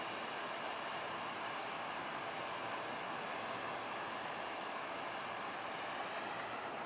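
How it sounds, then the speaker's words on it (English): Machinery running inside the fishing boat Titan Explorer, moored at a fishermen's terminal, makes a steady, faint, broadband mechanical drone that stays constant throughout, heard from the dock with no voices. "you can actually hear some machinery working coming from the hole right there in the"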